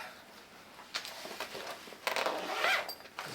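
Close zipper being drawn along the carry bag of a no-brand IGT camping table, several quick rasping pulls that grow longer and louder toward the end, with no talking.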